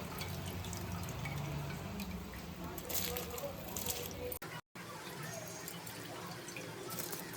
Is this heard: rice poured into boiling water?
yes